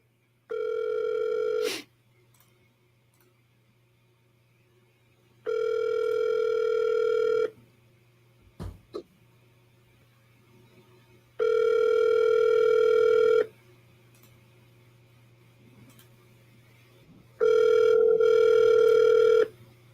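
A telephone call rings out through the earpiece, four evenly spaced two-second ringback tones separated by silent gaps over a faint steady hum, with a brief click between rings.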